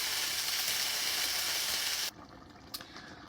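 Chicken pieces browning in a pan, a steady loud sizzle of frying that cuts off abruptly partway through, leaving a quiet background with a single faint clink.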